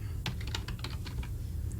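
A computer keyboard clatters with quick, irregular keystrokes, a close steady run of clicks heard alone.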